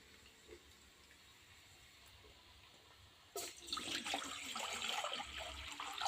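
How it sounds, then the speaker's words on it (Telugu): Water poured into a pot on a lit stove for vegetable dum biryani, starting suddenly after a quiet stretch as a close, splashing rush that keeps going to the end. "గిన్నెలో నీళ్లు పోసుకోవాలండి."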